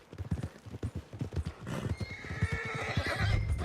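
A horse in the Red Dead Redemption 2 video game clops along on hooves in a quick, uneven rhythm, then lets out a long, loud whinny at close range; a little talk may sit faintly underneath.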